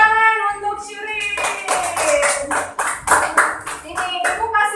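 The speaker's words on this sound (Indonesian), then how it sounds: "Tepuk tangan untuk Shirin." Applause from a classroom of young children, a burst of rapid claps that starts with a teacher's voice and continues steadily for several seconds, close and fairly loud with voices mixed in.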